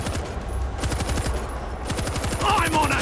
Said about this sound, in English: I wish I could aim with the machine gun.